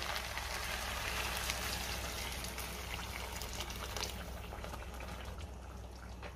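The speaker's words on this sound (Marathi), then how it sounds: "ह्याच वाटीने मी 3 वाट्या पाणी घालणार आहे।" Hot water is poured steadily onto rice in a pot, a continuous soft rushing splash that holds even and fairly quiet throughout, with no voices.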